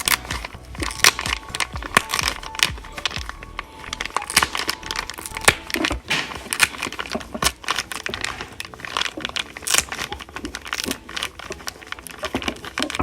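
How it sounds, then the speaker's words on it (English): Mesh fabric is peeled steadily off a plastic backing, giving a continuous close crinkling and tearing rustle with dense, irregular crackles throughout. "So we're gonna peel that right on up."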